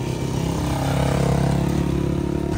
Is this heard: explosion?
no